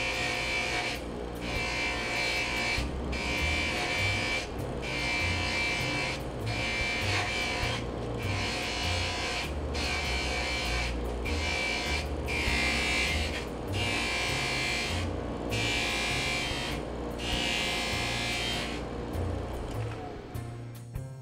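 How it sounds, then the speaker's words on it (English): Polishing a Thurmanite bangle bracelet on a buffing machine, a loud continuous motor whine with rhythmic surges roughly every second as the piece is pressed and lifted, running steadily for about twenty seconds before easing off. "Finally, polishing."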